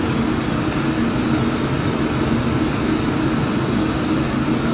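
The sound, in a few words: Phenom jet engine climbing in Flight Simulator X video game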